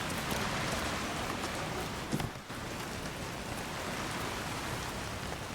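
Rain falls in the video game Resident Evil Requiem as a continuous soft hiss of drops on the ground, even and fairly quiet throughout, with one brief bump partway through.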